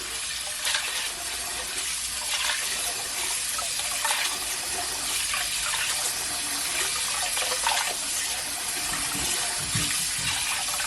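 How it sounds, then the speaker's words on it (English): Cold tap water runs steadily from a faucet to rinse hominy corn in a kitchen, a continuous splashing gush with a few brief surges. "I'm gonna run some cold water first."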